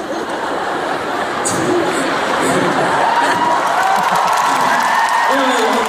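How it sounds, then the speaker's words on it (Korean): Applause and cheering from an audience at an actors' fan meeting talk event, a steady dense wash of clapping and crowd noise with scattered laughter and voices throughout. "감동의 박수"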